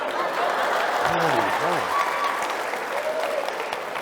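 Live audience clapping at a talk, a broad wash of applause that swells and then tapers off, with a voice speaking over it briefly.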